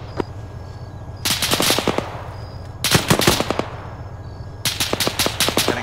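Bursts of automatic gunfire in an Isla Pera combat scene, with a wheeled or tracked vehicle nearby, come in three rapid rattling volleys, loud and close, between stretches of steady low rumble.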